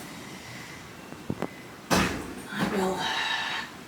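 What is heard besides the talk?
door banging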